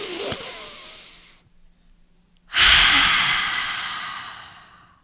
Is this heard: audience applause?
no